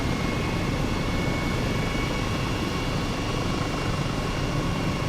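An H135 helicopter in Microsoft Flight Simulator, flying near Nice and Monaco, gives a loud, steady, broadband rotor and turbine roar with a faint whine, unbroken throughout and with no voices.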